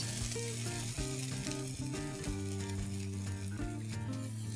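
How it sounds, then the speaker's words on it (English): Green garlic fries in a pan as gravy paste is added, giving a soft sizzle and a few stirring scrapes, mostly buried under loud background music. "the garlic is cooked only for a few seconds and into this I'm going to add in the gravy paste"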